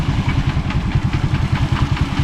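A motorcycle engine running hard in third gear on a road in Laos, a loud, close, steady throbbing with rapid regular firing pulses and no other sounds.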